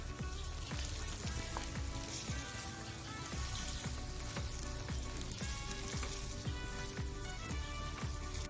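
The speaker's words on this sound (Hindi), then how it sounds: "प्याज को साफ कर लेने के बाद इसमें मटन डाल दीजिए और इसके साथ इसकी अच्छी तरह से भुनाई कर लीजिए।" Mutton pieces with onions fry in a pan for home-style mutton masala curry, giving a steady loud sizzle with crackling pops and occasional stirring scrapes throughout, no voices.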